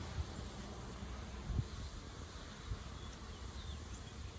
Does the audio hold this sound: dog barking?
no